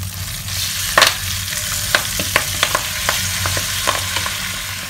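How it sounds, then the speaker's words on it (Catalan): Spinach frying in oil in a pan for a chickpea and salt cod dish, a steady close sizzle broken by sharp scraping and clacking as a utensil stirs it, with no talk. "Ja tenim els espinacs ben fregidets."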